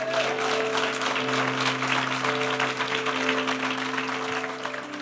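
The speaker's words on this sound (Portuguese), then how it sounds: "Pode aplaudir e glorificar Jesus?" Congregation applauding in church, a loud, dense crowd clapping that runs steadily for several seconds over a sustained tonal hum of instruments or organ in the background.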